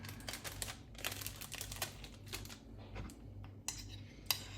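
Deviled egg filling being scooped and pressed into a plastic bag, with soft crinkles and rustles of the bag and a few sharper clicks of a utensil, close and fairly quiet over a low steady hum.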